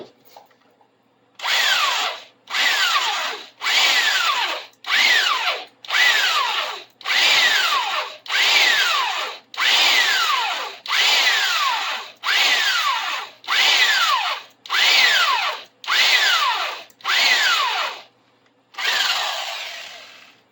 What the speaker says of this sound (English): I'm going to put a pilot hole through there first.